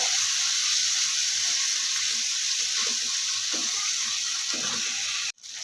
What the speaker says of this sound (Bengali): কথা বলতে বলতে কিন্তু আমার মশলাটা কষানো হয়ে গেছে তেল খেয়ে দিয়েছে